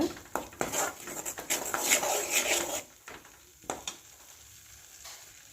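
Spice paste stirred into hot oil on a low flame for a herbal rasam, bursts of crackling sizzle and spoon scrapes against the pot that fade to quieter intermittent stirring.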